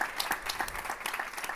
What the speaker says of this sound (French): je vous inviterai à l'applaudir chaleureusement